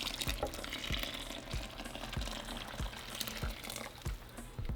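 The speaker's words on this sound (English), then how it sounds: "we're going to add about 6 cups of our broth" Chicken broth pours into a pot of dissolved flour with a liquid splashing rush, accompanied by a series of regular soft knocks.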